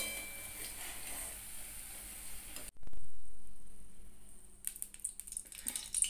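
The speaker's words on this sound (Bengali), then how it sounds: "পোস্তর বড়ার একটা সাইড ভালো করে ভাজা হয়ে গেছিল, অপর পিঠটা উল্টে দিয়েছি।" Poppy seed fritters fry in mustard oil over a low flame with a soft sizzle. A sudden loud burst follows as a fritter is flipped, then the pan settles into quieter, scattered crackling.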